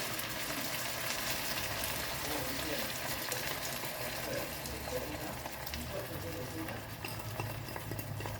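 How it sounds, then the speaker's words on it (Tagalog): Sauce for fried fish, made with light and dark soy sauce and water, boils in a pan with a steady, dense bubbling and hissing that holds at an even level throughout. "Kumukulo na."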